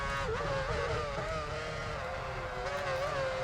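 A BAR Honda Formula 1 car engine in a racing video game at Sepang holds a steady, high droning whine, rising and falling slightly in pitch as the car runs at speed, loud and continuous.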